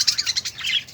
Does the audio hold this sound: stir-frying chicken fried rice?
no